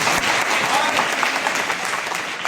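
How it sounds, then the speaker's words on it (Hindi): Audience at a district education and training institute clapping loudly for someone speaker, a brief, dense burst of applause from a close crowd. "जोरदार तालियां हमारे बहन के लिए"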